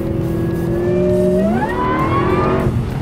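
A 2008 Cadillac STS-V engine revs under hard acceleration, its tone climbing steadily through gear changes, loud and close, with no talk over it.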